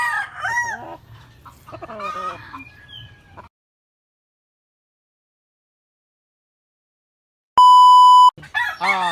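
Breeding roosters clucking and crowing close by, a cluster of calls followed by silence, then a steady electronic tone and a short burst more of fowl sounds.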